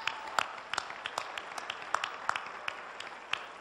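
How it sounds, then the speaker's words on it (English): An audience applauds a team at an event, scattered, fairly faint individual claps in an uneven rhythm, heard at a distance. "Let's please once more give them a rousing round of applause for a great team."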